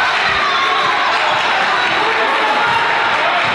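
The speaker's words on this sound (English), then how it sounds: "Kazis, listen to the crowd here." A high school basketball game crowd in a gym roars steadily, a dense wall of cheering and shouting that fills the space without letup.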